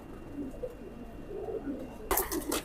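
A teddy pigeon, a fancy breed with red feet, coos softly in a low, quiet murmur, followed by a brief burst of rustling or flapping at the end.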